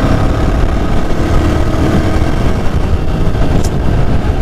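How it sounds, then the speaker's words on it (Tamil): A 2022 Yezdi Scrambler motorcycle engine roars steadily with the throttle held open, a loud, dense, continuous drone mixed with wind for several seconds. "ஜஸ்ட் அப்படியே கொஞ்சம் நேரம் ஒரு 3 seconds நான் த்ராட்டில் ஹோல்ட் பண்ணேன்னா 80 ஈஸியாக கிடச்சிடும் இந்த வண்டியில்"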